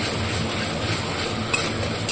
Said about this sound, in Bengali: টমেটোটা অ্যাড করার পর আমি একটুখানি ভালো করে ভেজে নেব